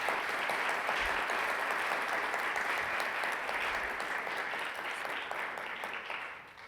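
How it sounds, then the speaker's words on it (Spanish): Sustained audience applause at a book presentation on addictions, steady and dense across the whole stretch as panel members are introduced, tapering slightly toward the end. "Un aplauso."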